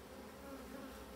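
A steady, dense hum of honey bees buzzing in an opened hive box, continuous and even throughout the short stretch.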